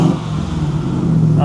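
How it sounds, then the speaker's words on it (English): A car with an aftermarket exhaust rumbles at a low, steady idle, the deep drone holding throughout with a slight lift at the very end. "It's got an aftermarket exhaust."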